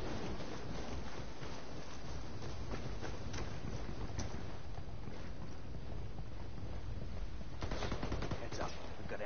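Muffled gunfire in a video game, a continuous crackle of shots under dense noise, fairly faint and steady with slightly sharper bursts toward the end.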